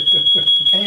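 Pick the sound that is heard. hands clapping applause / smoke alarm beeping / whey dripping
smoke alarm beeping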